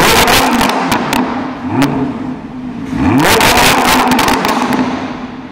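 Lamborghini Huracán LP610-2 revving loudly in Sport mode, a close engine roar with crackles that drops back, then sweeps sharply upward in pitch for one hard rev before settling.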